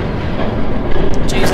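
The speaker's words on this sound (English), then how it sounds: "There's a train coming." A train rushes past in the Batman Telltale Series video game, a loud, dense roar that swells toward the end, with speech mixed in.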